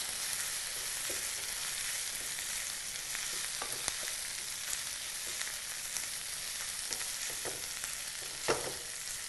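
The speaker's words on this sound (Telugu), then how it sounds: "ఇప్పుడు ఇందులో ముందుగా మనం ఉడికించి పెట్టుకున్న ప్రాన్స్ వేసేయాలి ప్రాన్స్ వేసి బాగా కలపాలి" Boiled prawns and fried onions sizzling steadily in a pan, a soft continuous frying hiss with scattered faint clicks of stirring.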